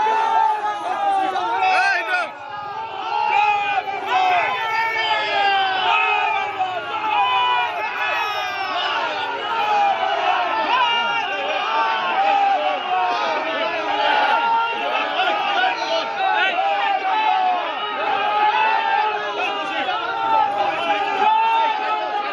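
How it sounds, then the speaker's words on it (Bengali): A large crowd at an outdoor election campaign in Alipurduar chants political slogans as a BJP candidate appears, voices loud and steady throughout, with overlapping shouts and babble. "বিজেপি প্রার্থী পরিতোষ দাসকে দেখে জয় বাংলা স্লোগান।"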